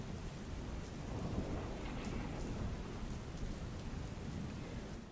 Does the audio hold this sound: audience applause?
no